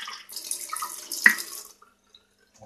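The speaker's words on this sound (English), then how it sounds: "Sorry for the running water, I'm just trying to get this brush clean." Tap water running into a sink while a brush is rinsed clean, a steady close splash that breaks off partway through with a brief knock, followed by near silence.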